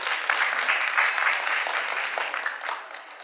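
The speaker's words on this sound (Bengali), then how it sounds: "ম্যাডামের জন্য জোরে একটা হাততালি হয়ে যায়" An audience claps steadily at a cultural evening of a foundation training programme, a dense, even wash of applause from many hands that holds for the whole moment and fades slightly at the end.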